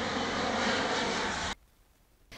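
Firefighting aircraft engine in Greece, a loud, steady broadband roar close by that cuts off abruptly after about a second and a half, leaving quiet before a brief return at the end.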